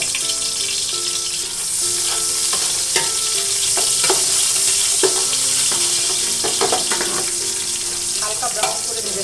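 Sliced onions fry in oil with cardamom and cinnamon for biryani, producing a loud, steady sizzle close up, with repeated stirring scrapes and light clatter of a spoon against the pot throughout.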